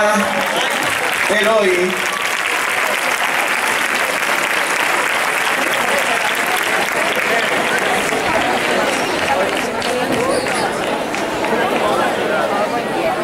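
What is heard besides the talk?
audience applause at a graduation ceremony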